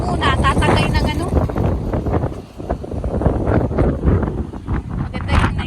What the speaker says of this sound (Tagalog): Dito kasi masyadong mahangin.